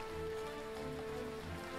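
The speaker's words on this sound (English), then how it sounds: "Pouring rain, not thunderstorms." Pouring rain in the dwarf colony game Mountaincore, a faint, even patter of drops on surfaces running steadily with no voices.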